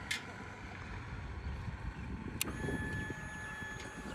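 A Royal Enfield Interceptor 650 motorcycle engine rumbles low and steady on a highway, partly buried under gusty wind noise, with a brief sharp click midway.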